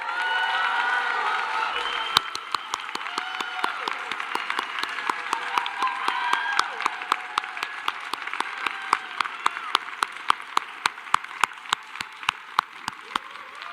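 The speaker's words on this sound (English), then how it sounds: "can we please give a big round of applause to the Roundtable staff?" Sustained audience applause at a conference closing session, dense clapping from a large crowd with some cheering, loud and continuous for over ten seconds, with sharper individual claps standing out as it thins toward the end.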